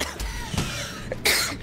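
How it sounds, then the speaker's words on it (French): Coughing in the video game Ark Survival Evolved during a cave fight against dimorphodons, with a couple of short rough bursts over game noise, fairly close and moderately loud. "Je tousse!"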